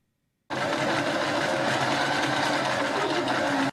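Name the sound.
sewing machines running in a dormitory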